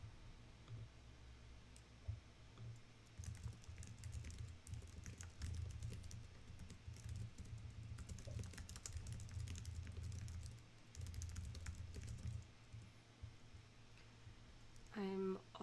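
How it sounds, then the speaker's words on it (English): Fingers tap on a computer keyboard in quick irregular bursts, soft close clicks with pauses, set against a low hum and a brief voice near the end. "I'm just gonna type in Slack."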